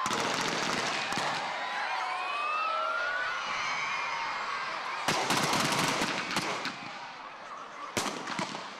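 Bursts of gunfire crack out in the distance over a steady crowd and outdoor din, with sharp volleys near the end, at a police demonstration for children.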